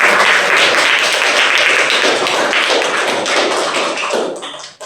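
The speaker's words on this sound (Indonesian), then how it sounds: "Tepuk tangan untuk kalian." Applause for student discussion groups at a training session: dense, loud clapping from a roomful of people, sustained for several seconds before tapering off at the end.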